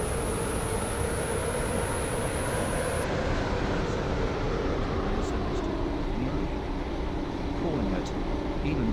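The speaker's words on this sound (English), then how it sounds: "This train is now approaching Faraday Road." A two-coach train running on a light rail line as it nears Faraday Road station: a steady, loud rumble of wheels and motor with a high whine that cuts off partway through, continuous throughout.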